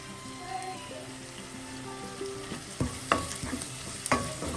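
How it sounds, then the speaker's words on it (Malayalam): Onions sauté on a low flame in a pan, a soft steady sizzle at first, then joined by several sharp scraping stirs of a spoon toward the end, close and clear with no talk. "ലോ ഫ്ലെയിമിലിട്ടൊന്ന് നന്നായി വഴറ്റാം"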